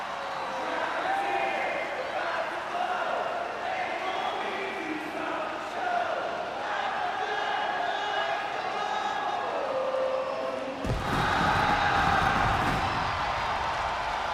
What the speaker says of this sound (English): As you can tell, fans are singing along with Cody Rhodes.